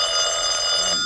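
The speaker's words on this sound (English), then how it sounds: "Oh, darn it, who's that? Answer the phone, Mary." A classic telephone bell rings continuously in a 1941 radio comedy sound effect, a bright, steady metallic trill that sounds close and fairly loud, heard alone without voices.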